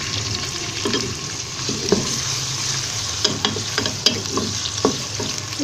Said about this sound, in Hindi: उनमें मैंने आधा कप ऑयल डाला है और ये फ्राई होने का शुरू कर दिए।